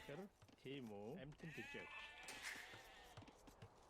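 Repeated bleats from sheep in Age of Empires rise and fall in several quick wavering calls over soft game background, with someone talking quietly throughout.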